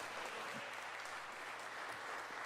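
A church congregation claps together in steady, dense applause that fills the room evenly and sounds moderately distant, with no voices standing out.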